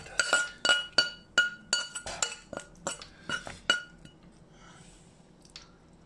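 Pan-seared shrimp are stirred into a mixture in a bowl, with a quick run of close, bright clinks of a utensil against the bowl before it tapers into soft, wet squishing.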